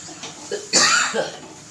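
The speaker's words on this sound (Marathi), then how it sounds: "खोकला आला" A single sharp cough from a woman cooking at a stove, set off by red chili fumes while potato and semolina simmer, with brief breathy sounds just before and a faint clearing after.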